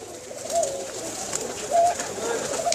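Pigeons in a loft in Jhelum coo in short, low phrases over a murmuring background. A louder, nearer call rises about two-thirds of the way through.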